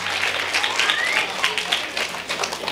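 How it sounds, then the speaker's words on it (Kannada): An audience at a retirement and welcome function for a CRPF soldier claps in a steady, dense wash of applause throughout. "ಒಂದು ಜೋರಾದ ಚಪ್ಪಾಳೆ ಬರಲಿಕ್ಕೆ ಅಂತ ಹೇಳಿಕ್ಕೆ ಇಷ್ಟಪಡ್ತೀನಿ."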